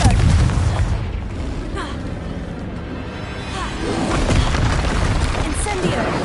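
The Confringo explosive spell goes off in Hogwarts Legacy with a heavy, sustained booming rumble that swells again near the end.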